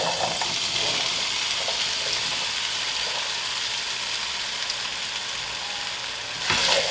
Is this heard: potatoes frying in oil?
yes